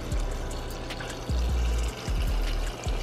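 Water pouring into a chocolate protein shake in a container, a steady liquid rush with a few gulping surges, close and fairly loud with no voices.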